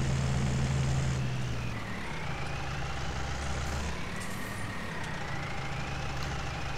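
Engine of a Ford 3600 tractor in Farming Simulator 19, a steady loud hum with a low drone that shifts pitch slightly as the tractor pulls a load, heard alone throughout.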